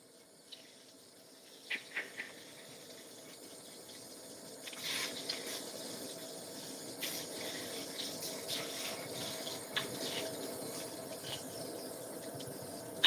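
Tap water runs steadily while a synthetic wig is rinsed under it, the flow thickening and splashing more as it goes on, with a few sharp knocks near the start and no voices.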